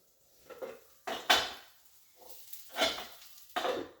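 Sliced peppers tipped into a hot cooking pan at home, giving a few short clattering, rustling bursts with a faint sizzle, close by and without speech.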